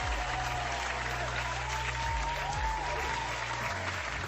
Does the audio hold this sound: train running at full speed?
no